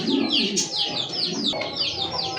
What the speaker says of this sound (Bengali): এই মুহূর্তে দেখতে পাচ্ছেন হাই ফ্লার একটা কবুতরের জোড়া আছে